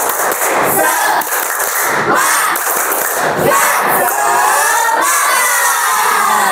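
A school class shouts a rhythmic spirit chant with sharp, evenly spaced group claps and loud voices, the whole room joining in together.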